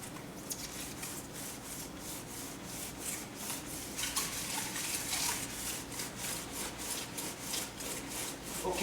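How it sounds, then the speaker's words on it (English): Sandpaper scrubs back and forth across the bottom of a bathtub, producing a steady, rhythmic rasping close by that continues throughout without talk. "we are now going to sand the entire area that's been outlined"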